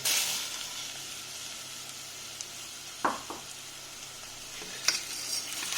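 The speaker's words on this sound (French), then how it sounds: "on peut ajouter le riz arborio et le faire nacrer" Arborio rice and shallot sizzling in fat in a pan, a constant bright sizzle broken by a few scraping stirs and clacks, close and without talk.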